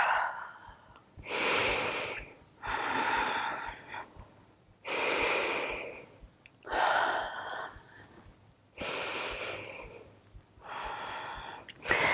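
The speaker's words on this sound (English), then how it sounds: "Let's do 3 really good deep breaths." Six slow, deep breaths drawn in and let out in a steady rhythm while holding a quadriceps stretch in a cardio yoga flow, close and fairly loud with short pauses between, no talking.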